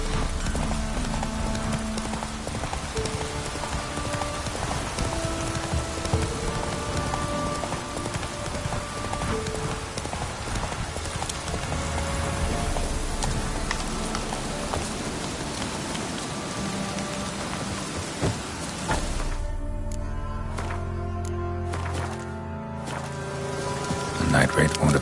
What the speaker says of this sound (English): Cloud must have burst.